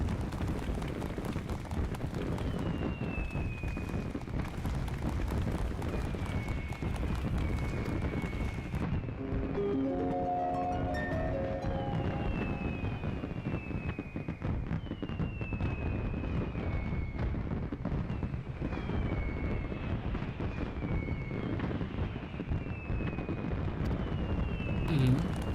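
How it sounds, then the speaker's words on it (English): Fireworks go off during The Rising seasonal event in the video game Final Fantasy XIV. Dense, loud crackling bursts roll on continuously, joined by repeated whistling launches and brief tonal chimes. "Pretty fireworks."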